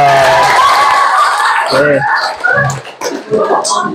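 A class of schoolchildren in an Indonesian classroom claps briefly in short bursts, mixed with a teacher's and children's talk and a few giggles.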